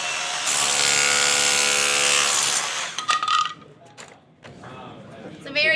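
A Milwaukee SDS tool fitted with an 18-inch extension and tile chisel hammers off floor tile with a loud, sustained chattering roar, then cuts out into scraping, clattering bits of tile as someone talks.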